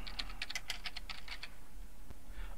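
Steady typing on a computer keyboard, a quick run of light clicking keystrokes over a low background hum, with a pause near the end before a few more taps.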